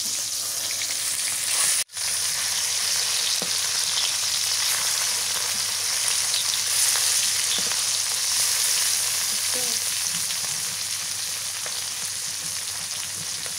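Fish frying in oil in a pan gives off a steady, close, continuous sizzle throughout, with one brief dropout near the start and a few faint clinks of stirring.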